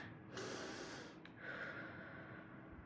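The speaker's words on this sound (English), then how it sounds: "You're going to take 5 deep breaths." Two deep, breathy inhalations come close to the mic, each a sharp airy rush of breath drawn in through the nose, the second following about a second after the first, in a quiet room.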